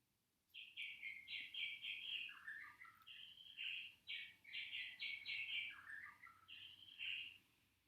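Small birds chirp and tweet in quick, bright bursts nearly nonstop, a busy close chorus in an aviary with no talking over it.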